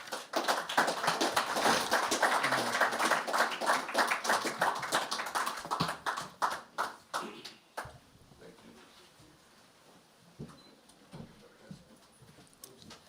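Audience applause at a conference convening after a dignitary's address: dense rhythmic clapping from a crowd for about six seconds, thinning into scattered claps that fade away.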